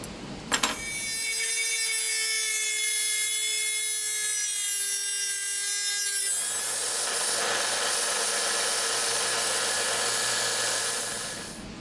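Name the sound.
cutting down metal hinges with a power tool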